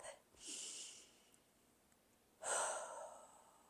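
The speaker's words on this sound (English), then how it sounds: "big breath" Two deep breaths taken during a slow movement workout, a brief inhale-exhale followed by a fuller, louder breath after a pause, close and alone.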